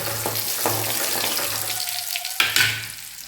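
Soft sizzling and bubbling of shallots frying in coconut oil, close by, with a few clatters of a utensil against the pan.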